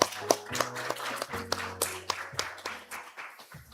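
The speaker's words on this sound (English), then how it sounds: "please welcome him with a warm round of applause" A conference audience clapping, scattered moderately quiet applause of many hands, fairly close, continuing for a few seconds with no talk.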